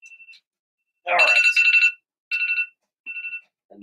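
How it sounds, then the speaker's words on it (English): An electronic alarm goes off in short, sharp beeping bursts, loud and close, repeating in quick clusters with silences between them. "And that is the alarm going off for real this time."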